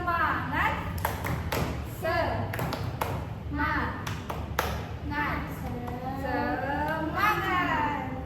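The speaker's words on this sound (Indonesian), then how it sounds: "Mari kita tepuk semangat" A class of children claps a rhythmic spirit-clap pattern in a classroom, a run of sharp, evenly spaced claps in quick groups, followed by a teacher's voice and children's voices talking.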